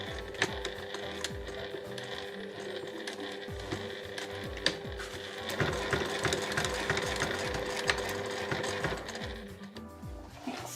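Sewing machine stitching along the edge of a large cotton rucksack seam, rapid mechanical chatter in close bursts with brief pauses, no talking.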